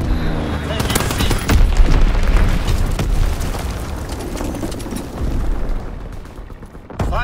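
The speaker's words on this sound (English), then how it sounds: "X-bomb mission underway." Continuous heavy booming and rapid crackling gunfire from an X-bomb strike in Call of Duty WWII, loud and dense throughout with rolling explosions layered over one another.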